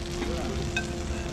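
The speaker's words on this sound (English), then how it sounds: "Chicken sizzler." Chicken sizzler sizzling on a hot plate at a restaurant in Nepal, a steady close hiss and crackle that carries through the whole moment without a break.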